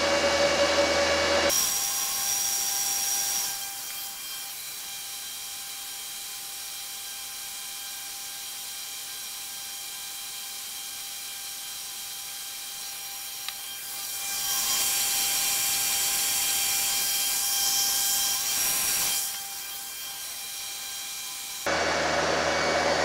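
Steady whirring of a Bitmain S19J cryptocurrency miner's fans with a constant high-pitched tonal hum, rising louder at times and dropping back, running continuously without any talking.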